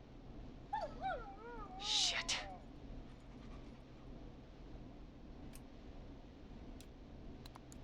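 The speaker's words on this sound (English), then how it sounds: "Is that a neighbor's dog?" A neighbor's dog barks a few times at night in the horror radio game Killer Frequency, a short mid-distance burst followed by quieter background, with a brief exclamation from a voice.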